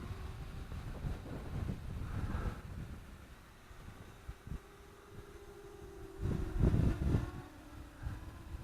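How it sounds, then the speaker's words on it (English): Steady wind rumbles and buffets the microphone outdoors at a model flying field, with gusts swelling louder near the end; no one speaks. "It is, like I said, it is very windy."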